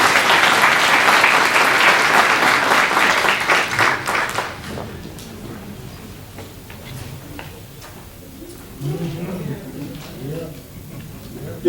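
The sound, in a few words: audience applause for introducer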